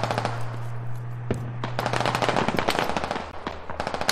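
Rapid bursts of close, loud automatic gunfire in the video game Squad, dense cracking shots over a low engine hum, with shooting growing busier toward the end.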